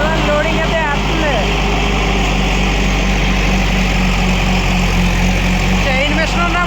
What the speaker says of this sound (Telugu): వర్క్ అయితే స్టార్ట్ అయిపోయింది జేసీబీతో అయితే. లోడింగ్ అయితే వేస్తుంది.